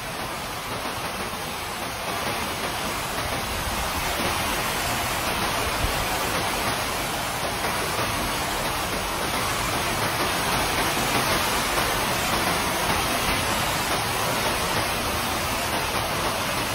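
Heavy typhoon rain pours down outside a house during an all-night storm, a loud, unbroken rushing hiss that stays dense and constant the whole time, with no voices.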